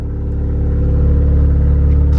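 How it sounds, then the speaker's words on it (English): A Mazda FD RX-7 sits idling as it warms up in Japan, a steady, loud, close rumble with a faintly pulsing low drone and no one talking. "I'm just letting the car warm up."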